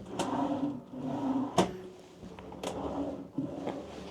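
Drawers in a hotel room being opened and closed, several sharp wooden knocks and sliding scrapes in a quiet room, close by, with no talking.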